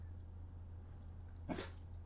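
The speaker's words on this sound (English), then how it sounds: "Bless you, Mochi" A single quick, sharp dog sneeze cuts through a quiet room with a low steady hum in the background.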